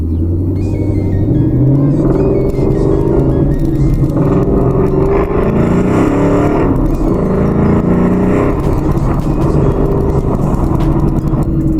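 Ford Mustang pulling away from a dead stop, turning, then accelerating hard onto a freeway: loud, close engine roar climbing through rising revs with gear changes, continuous rumble throughout.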